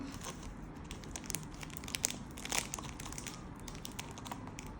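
Grass-head toy seeds pouring and scattering from a plastic packet, giving a steady close crinkly rustle with small crackling ticks and a couple of sharper crisp bursts, no voices.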